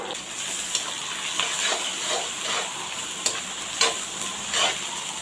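Onions, curry leaves, garlic and green chillies frying in hot oil, a steady close sizzle broken by occasional sharp ticks and pops as the pan is stirred.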